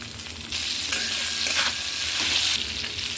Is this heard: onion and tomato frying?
yes